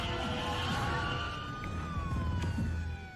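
A police car siren wailing with a rising and falling pitch, fairly close over the hum of engine and road noise, holding continuously without any talking.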